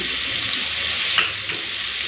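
Prawns frying in a pan, giving a steady close sizzling hiss with a brief stir or clatter midway and no talking.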